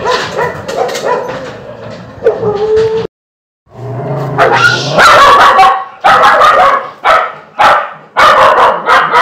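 A frightened, scruffy, neglected small dog growls and barks in short, sharp bursts, with whimpering yips in between, loud and very close, broken by a brief silence, while a person speaks softly nearby.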